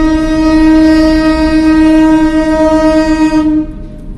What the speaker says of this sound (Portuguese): Esse é o trem.